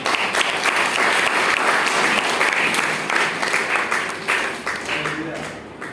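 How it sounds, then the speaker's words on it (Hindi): A church congregation applauds in a thick, continuous wave of clapping that starts loud. It gradually breaks into looser, uneven claps near the end, and a few voices come through underneath. "इसके नाम भाई तालियां होनी चाहिए"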